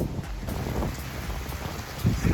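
Heavy rain falls outdoors after dark in Aberystwyth, Wales, on a wet, windy evening. It makes a dense, constant hiss with close patters throughout and no voices.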